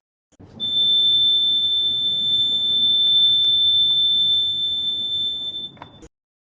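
A steady electronic beep from a voting machine as a vote is cast, one continuous high tone lasting several seconds, loud and close against a faint background hum, with no talking.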